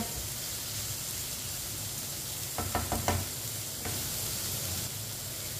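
Chicken macaroni with finely chopped capsicum is mixed in a pan over a constant sizzle, with a short cluster of utensil knocks midway.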